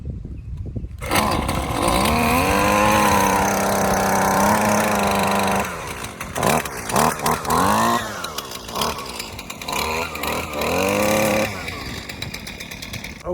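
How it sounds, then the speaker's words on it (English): A repaired weed eater's small two-stroke engine, with a cracked fuel line as its fault, starts and runs close up with a loud buzzing whine that holds steady, then rises and falls in repeated revs. "So let's see if this baby will run."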